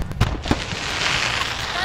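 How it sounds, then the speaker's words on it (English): Fireworks bursting outdoors before a football game, two sharp pops early on followed by a steady crackling wash, fairly close and loud. "Fireworks!"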